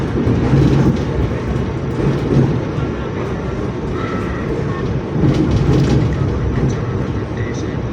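A passenger train running toward Kalibaru station, heard from inside as a steady, loud rumble with rhythmic rail clatter throughout.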